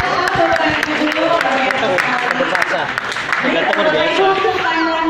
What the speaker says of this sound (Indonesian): Ya tepuk tangan untuk Mas Ilham Bapak dan Ibu dulu